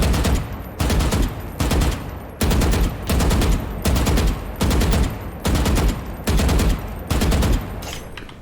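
Automatic gunfire in the video game Valorant: about ten rapid, evenly spaced bursts of rifle fire, loud and close, each lasting under a second with short gaps between.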